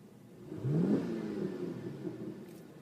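A 2014 Chevrolet Camaro SS sits idling in park, heard from inside with the windows up: a muted, low engine hum with a brief mild swell in revs near the start, then a steady quiet drone.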